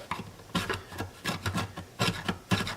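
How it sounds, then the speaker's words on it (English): A chisel scrapes hardened glue off the neck of a Harmony Sovereign guitar during a neck reset, in a series of close, rasping strokes with short pauses between them. "let me try taking this glue off with the chisel here"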